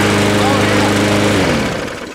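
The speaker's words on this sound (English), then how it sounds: "All right, so here's our push mower." A small gasoline push lawn mower engine idles and runs with a steady, buzzing drone close by, then fades away near the end.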